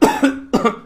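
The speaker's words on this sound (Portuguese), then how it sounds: "Parecendo um velho com essa tosse." Two quick, harsh coughs from a man playing an online game, close to the microphone, each a sharp burst fading out, alone without speech.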